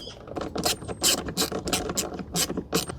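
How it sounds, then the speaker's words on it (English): Allen bolts are tightened on the rail of a budget router sled with a ratcheting tool, making a close, rhythmic series of metallic clicks and scrapes in uneven bursts. "I'm going to put the Allen bolts back in"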